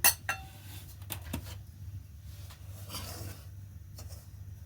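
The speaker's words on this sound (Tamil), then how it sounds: "இனி நாங்கள் இந்த ரவையை வறுத்தெடுக்க போகிறோம்" Rava (semolina) being dry-roasted in a hot pan for upma: faint scraping and stirring with a few sharp metallic clinks near the start, then a soft, steady rustle with no talking.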